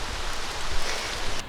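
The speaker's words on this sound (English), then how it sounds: "Warm, rainy, smoky Melbourne today." Steady rain falls during a warm, smoky storm in Melbourne, a dense continuous hiss of drops with no pauses or voices.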